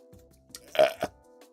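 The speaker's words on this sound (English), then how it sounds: "Burped." A single short burp, quiet and close, with a faint breathy lead-in and no talking around it.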